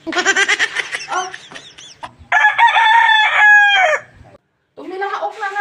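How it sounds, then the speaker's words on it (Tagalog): A rooster crows loudly and close by, several long ringing calls broken by short clucks and a brief gap of silence. "Tumilaok na naman."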